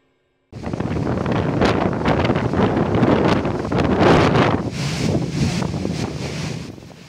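Strong gusting wind buffets the microphone in North Parigi, Parigi Moutong, a loud roaring rumble that starts abruptly, surges and swells for several seconds, then eases slightly.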